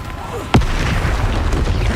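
A spell blast booms in the video game Hogwarts Legacy, one sharp, loud impact amid a dense, continuous wash of game combat noise.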